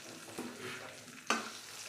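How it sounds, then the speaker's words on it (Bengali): Spice paste being stirred and gently fried in a pan while cooking a taro cutlet curry, with a steady soft sizzle and a couple of brief scraping stirs, close and quiet, no talking. "তো দেখো আস্তে আস্তে একটু কষিয়ে নিতে হবে"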